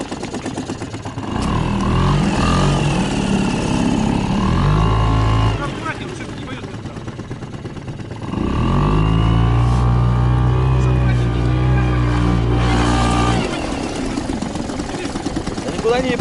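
RDX outboard motor running on an RDX boat during a taiga river rafting trip, a steady droning engine hum that swells and eases in long surges, with voices talking over it.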